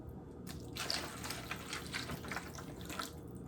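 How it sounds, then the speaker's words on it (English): Tap water running steadily into a cooking pot to make stock, a soft continuous splashing and gurgling stream heard close up without talk. "And I'm just gonna put enough water in here"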